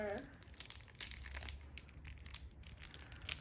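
Plastic bags crinkle and rustle in short bursts while a toy space set is being unpacked, close and fairly quiet, with children and an adult talking over the handling.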